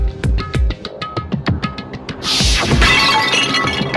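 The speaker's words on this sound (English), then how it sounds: "I grabbed the Monokuma bottle from the shelf and smashed it across her head!" A glass bottle shaped like Monokuma from the Danganronpa game smashes loudly after a run of sharp hits, the burst of shattering glass trailing off into a bright, scattering tinkle.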